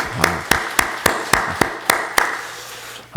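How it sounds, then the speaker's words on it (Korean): A church congregation at a Sunday service claps in slow, evenly spaced unison beats, eight or so sharp claps in a reverberant room, then they stop. "우리 격려의 박수 하겠습니다"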